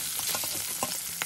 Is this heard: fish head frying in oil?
yes